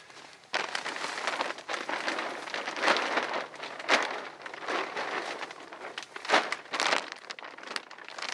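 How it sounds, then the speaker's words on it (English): A plastic bag is pulled down over a small tree in the bush, giving steady close crinkling and rustling with sharper crackles as the plastic snags on leaves and branches, no voices. "Once the plastic bag's right over the tree, the next thing is to seal it completely around the trunk here."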